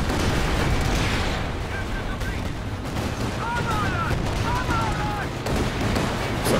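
A coordinated artillery barrage in Company of Heroes 2 rumbles with continuous booming explosions and gunfire, heavy and loud throughout, while a commentator talks over the battle.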